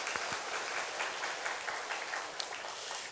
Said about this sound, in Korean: 우리 부흥을 허락하신 하나님께 한번 감사의 박수를 좀 올려드리겠습니다.